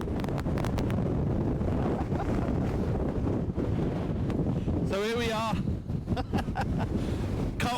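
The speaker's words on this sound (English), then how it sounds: "I apologise for the wind noise because it is a bit gusty" Blustery wind gusts buffet the microphone outdoors at Carlton Bank with a constant low rumble, under a man's speech, with a brief whistling flutter midway.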